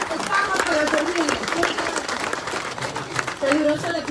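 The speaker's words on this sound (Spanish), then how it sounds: "brindémosle un fuertísimo aplauso, por favor, para despedirla" A crowd at a speech-and-dance event for mayors and deputies in Colotenango, Huehuetenango, applauds a departing deputy, with dense clapping continuing beneath an announcer's amplified voice.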